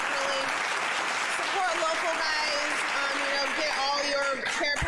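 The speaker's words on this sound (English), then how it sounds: "Round of applause one more time." Audience applause during a live-streamed smoke-session podcast, steady dense clapping held at one level for the whole stretch while people talk over it.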